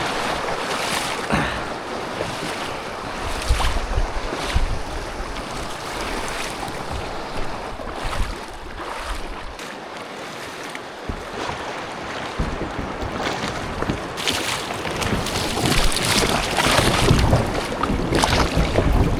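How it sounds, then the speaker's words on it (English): Loud, continuous rushing water churning over rapids, a dense roar that swells and surges without pause. "This water is hammering down here."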